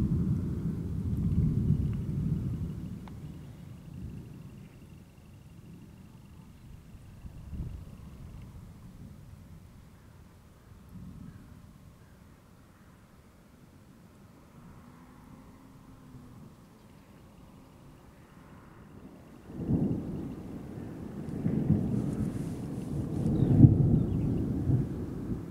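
Thunder rumbles low and distant during a storm over Palazzolo Acreide, with deep rolling booms at the start and a stronger burst near the end, set against a faint steady wash of rain and no talking.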